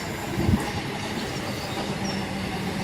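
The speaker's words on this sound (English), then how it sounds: "Platform 2 train not stopping." A non-stopping train rumbles steadily through Elsenham station with a constant rolling roar and faint wheel noise, fairly close, with a brief heavier thump near the start.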